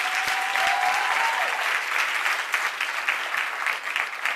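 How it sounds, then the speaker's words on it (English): Audience claps for chief executive Maxine Clark at a social media moms conference, a sustained loud wash of many hands with a few sharper nearby claps, no voices over it. "Shout out and clapping, please, for Maxine Clark, Chief Executive."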